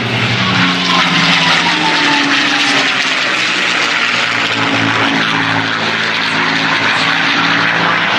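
A P-51 Mustang fighter's propeller engine drones loudly and steadily as the plane passes at the Flying Legends airshow at Duxford, a broad continuous roar with shifting pitch and no talking.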